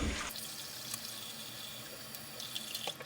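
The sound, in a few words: sink filling with hot water from the tap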